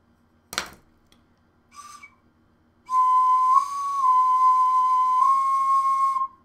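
A clear, steady whistle-like wind tone from a handmade ocarina holds for several seconds after two brief knocks and a short breathy toot, slightly wavering in pitch.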